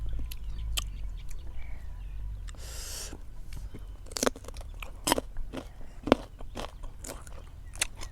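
Someone bites into crunchy fresh green mango and chews it, with repeated sharp crunches and crackling snaps at close range, a brief scraping sound early on and no talking.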